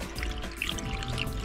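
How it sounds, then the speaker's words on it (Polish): Distilled water poured into a car engine's cooling system while it is flushed, a brief continuous splashing gurgle heard up close with no talking. "Dawaj, zalewamy wodę"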